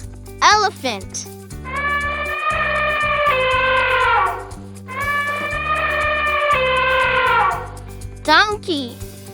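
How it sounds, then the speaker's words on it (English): An elephant trumpets in two long, loud, sustained blasts, each about two seconds, over a musical backing, with short vocal sounds before and after. "Elephant."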